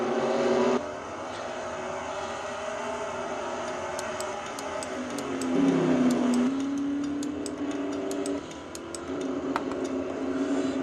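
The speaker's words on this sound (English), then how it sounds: "Becker floors that throttle on the Pontiac" Pontiac race car in a racing video game held at full throttle, a steady droning engine tone that rises in pitch midway, with faint ticking clicks scattered over the top.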